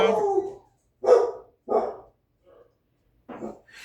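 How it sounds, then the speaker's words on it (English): Dog barking indoors in short separate bursts, four or five loud close woofs with silent gaps between them. "with Turbo barking out like he just did"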